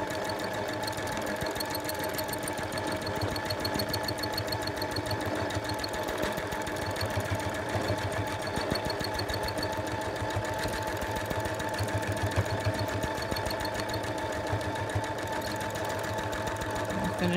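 A sewing machine quilting continuous curves across granny squares runs as a steady, rapid mechanical stitching hum, close and unbroken for the whole stretch with no pauses.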